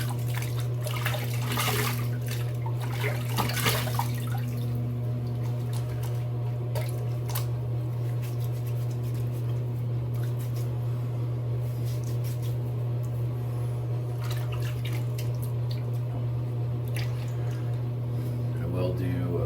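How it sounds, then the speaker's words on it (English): A razor is rinsed under running tap water during a wet shave, with a steady low hum of flowing water, scattered drips and splashes, and soft clinks throughout. "Let's rinse."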